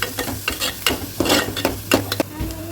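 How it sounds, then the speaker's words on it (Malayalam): Sliced onions and green chillies fry in a pan for a mussel dish, with sizzling under repeated sharp scrapes and knocks of a spoon stirring against the metal. "നല്ലോണം വറുക്കാം."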